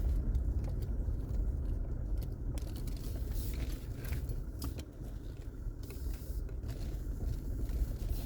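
A car rolls along a forest road in Allegheny National Forest and turns around near a campsite, with a steady low engine rumble, tyre noise and rattling from inside the cabin throughout.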